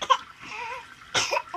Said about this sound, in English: What's she coughing on?